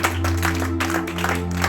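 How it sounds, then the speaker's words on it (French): Worshippers at a church service applaud together, a continuous wash of clapping over held keyboard chords, moderately loud and without clear speech. "Applaudis bien le Seigneur."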